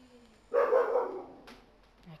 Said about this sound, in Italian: C'è il mio cane che appaia un'ennesima volta.